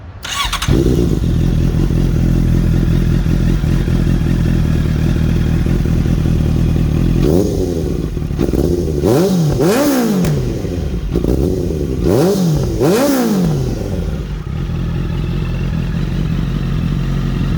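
A 2014 Honda CB650F motorcycle idles steadily up close, then revs sharply several times in quick bursts before settling back to a rumbling idle.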